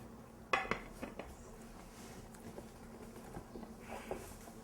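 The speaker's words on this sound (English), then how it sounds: "Loosen it around the outside with a thin knife." A thin knife works around the edge of a fresh berry pudding in its mold, giving a few close clinks and scrapes against the dish, sharpest near the start and then quieter, with no talk.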